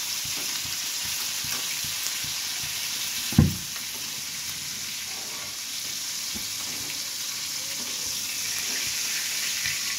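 Large prawns fry in hot oil in a home kitchen, a steady close sizzle and hiss with one brief clatter a few seconds in, no talking.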